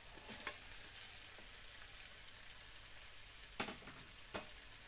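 Petai and onions fry in a pan with a steady soft sizzle and a few sharp pops and clicks from stirring. The sound is faint and continuous and has no talking.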